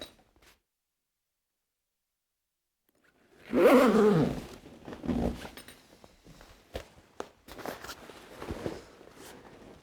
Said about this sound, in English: And zip both zippers.